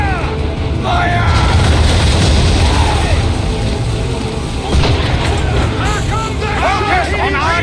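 A naval cannon volley in Assassin's Creed 3 booms across the water amid heavy ship noise and shouting crew, with the deep blasts and rumbling continuing under commanding voices.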